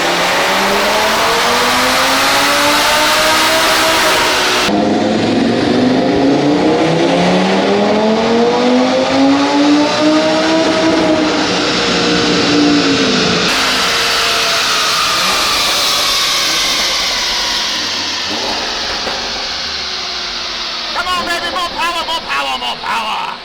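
A car with a TTE700 turbo and Unitronic E85 tune runs on a dyno, its engine climbing through repeated loud rising revs with gear-like sweeps, then dropping off with crackling at the end, close and dominant with a voice briefly underneath.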